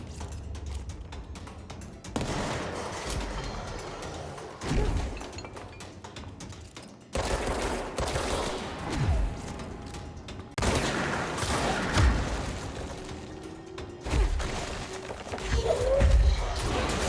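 Bursts of gunfire ring out in a supernatural action shooter as enemies are shot, with several loud volleys separated by short pauses and mechanical clicks and clanks in between.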